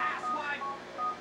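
Phone keypad dialing in the game GTA 4: a quick run of short electronic tones, several beeps in succession over about a second, clear and fairly close.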